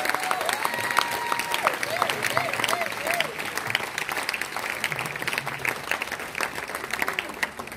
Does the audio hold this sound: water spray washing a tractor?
no